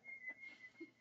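A toy teddy bear plays a thin, steady electronic whistle imitating a red bird, one sustained faint tone lasting about a second, quiet and alone.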